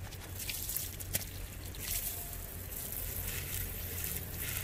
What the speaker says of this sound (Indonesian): Kita kasih air, disiram air.